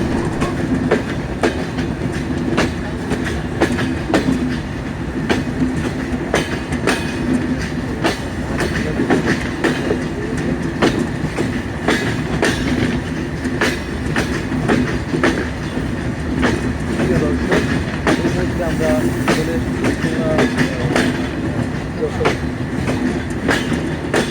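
The Intercity Rupsha Express rolls into Noapara railway station in Jessore, wheels clattering in a steady clickety-clack rhythm over a loud carriage rumble, with a voice speaking at times.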